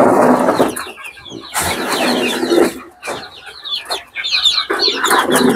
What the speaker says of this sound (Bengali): এখানে অনেক জুটিয়ালা মুরগি আছে, সুন্দর হয়েছে